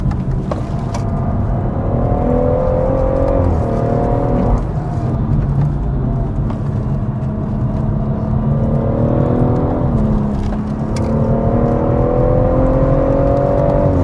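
Loud in-cabin engine noise from a BMW M140i at speed on the Nürburgring, with pitch climbing through repeated gear changes and sharp drops at each shift, continuous and without speech.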